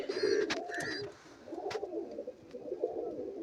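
Pigeons in a loft, a breeding pair with two young chicks nearby, coo close by in repeated low, rolling phrases with short pauses between them.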